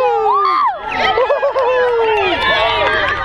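Noisy youth sports crowd shouting and cheering after a score, a short burst of overlapping excited voices, screams and chatter close by.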